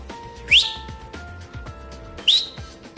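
A person attempts a loud whistle, producing two brief sharp rising whistle bursts about two seconds apart, with some background game music underneath.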